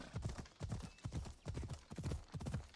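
Horse hooves clip-clop in a steady, even trot in Assassin's Creed Odyssey, the clear rhythmic beats close and continuous, with no talk over them.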